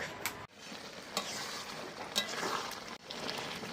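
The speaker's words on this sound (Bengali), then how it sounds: "এখন হচ্ছে মাটন কষানো।" Mutton being kosha-sautéed outdoors at a family picnic, a close, busy sizzle with vigorous scraping stirs and a couple of abrupt pauses as the ladle lifts, no talking.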